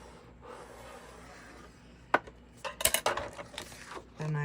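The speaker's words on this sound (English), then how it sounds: "I'm going to score in a 1/2 inch." Paper scored with a tool on a scoreboard for a mini album craft, giving a quick sharp tap followed by a cluster of short scraping, rubbing strokes and light clatter, close and fairly quiet.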